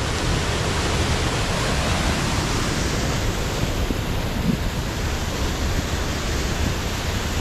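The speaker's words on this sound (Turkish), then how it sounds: "Şöyle bir şelale." Steady, broadband roar of a waterfall in western Iceland, constant and fairly close, with no voices or other distinct sounds.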